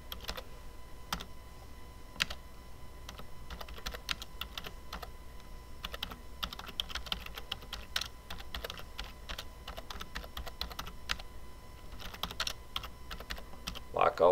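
Steady typing on a computer keyboard, a continuous run of quick, light key clicks with irregular rhythm, close up and moderately quiet, with no voices.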